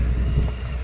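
A brief low rumble of a boat engine on open water near the shore, blended with steady wind buffeting.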